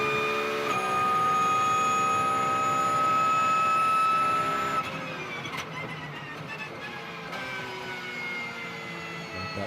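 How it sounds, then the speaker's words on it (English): Porsche GT race car at speed in a Fanatec GT World Challenge America race, giving a steady high-pitched drivetrain whine with tonal harmonics, loud and sustained at first, then dropping in level as the car slows for a corner. "And that drivetrain whir of the Porsche"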